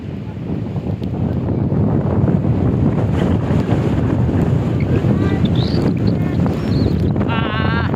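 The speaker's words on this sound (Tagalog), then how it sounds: "Dahil sa lakas ng hangin, lumilipad yung sand" Strong wind roars steadily and loudly across a beach on Mararison Island, buffeting the microphone, with blowing sand and surf churning beneath; a brief whistle-like tone rises near the end.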